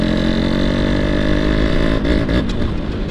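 A Yamaha RX two-stroke motorcycle engine revs loudly and steadily up close, with a rough, buzzy tone that falters briefly near the end before picking up again.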